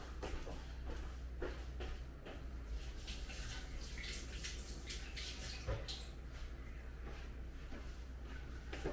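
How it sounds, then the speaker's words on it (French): Hands rinsed under a running tap, with a steady, continuous wash of water splashing close by and no voices. "je vais me rincer les mains"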